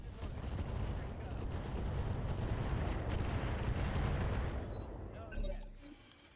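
Dense, sustained barrage of mech weapon fire from the RogueTech mod of the BattleTech video game, rumbling heavily and steadily for several seconds before tapering into scattered impacts and small crackles.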